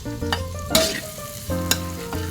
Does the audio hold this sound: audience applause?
no